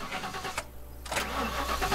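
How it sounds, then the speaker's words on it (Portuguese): A car engine cranks and starts in the zombie survival game The Last Stand Aftermath. The starter churns, breaks off in a short gap, then the engine catches and settles into a steady idle, loud and alone with no talking. "uma das mecânicas é a própria mecânica de ligar o carro"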